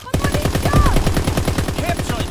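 A video game warship's primary battery guns fire in a fast, regular string of loud, punchy shots, close and continuous for a couple of seconds.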